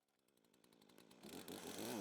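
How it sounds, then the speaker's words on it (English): A chainsaw runs close by, its engine rising from a buzzing idle into a loud, steady roar that grows nearer and louder throughout. "Is that a chainsaw here, my dear? Yes, it's a fucking chainsaw."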